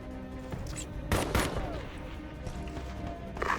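Gunfire in the video game Ghost Recon Advanced Warfighter 2: a couple of sharp shots and a short burst crack over a low ambient rumble, with faint voices in the background.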